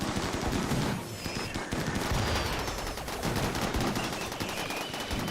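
Rapid automatic gunfire from a Rimworld firefight rattles on continuously, dense overlapping shots at steady loudness with no pause.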